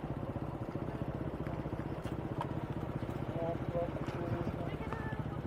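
Two motorcycles idle at a parking area with a steady, low, rapid engine throb that stays constant throughout, while people talk nearby.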